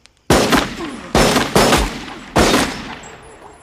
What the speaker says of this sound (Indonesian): Norton memerintahkan Kapten Hadley untuk menembak Tommy dengan alasan kabur dari penjara